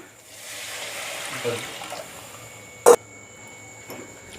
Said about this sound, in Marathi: आपण यात पाणी टाकूया